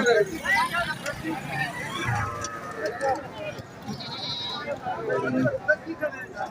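Lambs and sheep bleat at a busy livestock market, several short cries rising over steady crowd chatter and people talking nearby.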